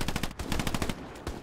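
Rapid automatic gunfire from the WWII shooter game Hell Let Loose, a dense rattling burst of close shots in quick rhythm with no voices.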